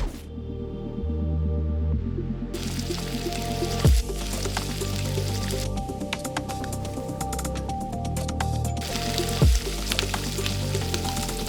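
Egg fried rice sizzles and crackles in a hot pan, a dense continuous frying hiss with scattered pops, close and loud, layered over music.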